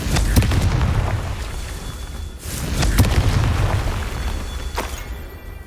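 Repeated Confringo blasting-spell explosions in Hogwarts Legacy, several sharp booming bursts a couple of seconds apart over a steady roaring rumble.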